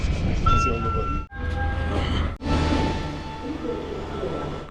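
A metro train ride, with a steady rumble and rail noise running throughout and a couple of brief dips as the train moves. People talk over the ride.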